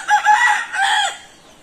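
A rooster crows loudly and close by, one full cock-a-doodle-doo call in two drawn-out phrases that trails off into quiet, with no talking.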